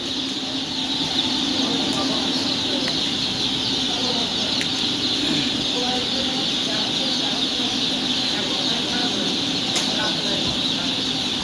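Dense, constant chorus of many chickens chirping and clucking together in a large flock at a poultry farm, filling the whole stretch without pause.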